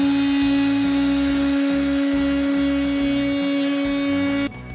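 A CNC router with a 1.5 inch surfacing bit machines acrylic, giving a loud, steady high whine with strong tonal lines and a rhythmic chugging underneath as the cutter passes, which drops off abruptly at the end.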